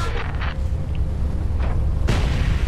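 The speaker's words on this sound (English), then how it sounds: "Ooh, super nice explosion there." A video game explosion from the space shooter Everspace, heard as a dense, loud boom with a sharp burst near the end over a continuous rumbling low roar.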